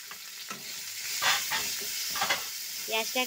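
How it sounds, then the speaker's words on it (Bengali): Sliced onions fry in hot oil with dried red chilli, bay leaf and cinnamon, giving a steady close sizzle broken by scraping stirs of a spatula against the pan. "পেঁয়াজটা দিয়ে আমি এটাকে ভাজবো"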